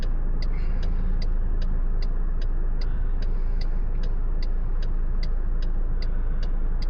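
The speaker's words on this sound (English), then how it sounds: "when this car goes past, we should be able to get across" A car passes on a road along a driving test route in Redditch, Worcestershire, with steady broadband traffic rumble throughout and a faint regular ticking, likely an indicator, over the engine noise.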